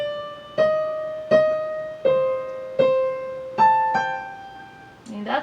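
Piano plays one measure of a piece, with five clear, evenly spaced notes ringing out and decaying. Each note is distinct, a short phrase played alone.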